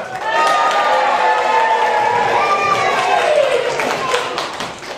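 A large crowd roars with cheers and scattered clapping after the winner of the knight trials is announced, a dense, loud, sustained wall of noise that fades slightly at the end.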